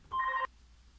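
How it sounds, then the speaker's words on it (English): A single short electronic telephone ring, a clear two-tone warble lasting under half a second, close and fairly loud in an otherwise quiet room. "that's the phone ringing"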